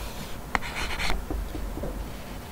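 Marker or chalk writing on a classroom board, with a few short scratchy strokes and taps close by over a faint room hum.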